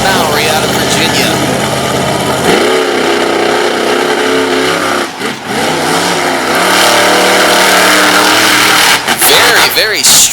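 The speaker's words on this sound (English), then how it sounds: "the first truck up will be the storm damaged Chevrolet out of the state of Maryland" A storm-damaged Chevrolet monster truck roars and revs hard on a muddy race track at Sarver, Pennsylvania, the engine loud and sustained with surging pitch and a brief dip midway, under an announcer's commentary.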